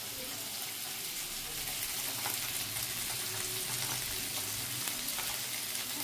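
Tomatoes with salt and turmeric fry in a pan with a dense, continuous sizzle and hiss, steady and fairly close, with occasional faint stirring scrapes and no voices.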